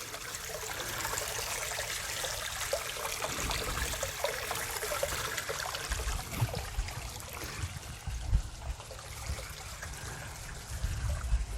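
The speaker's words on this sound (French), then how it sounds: "Petite rivière." A small river trickles and babbles continuously, a soft, close water sound with gentle irregular splashes and no voices.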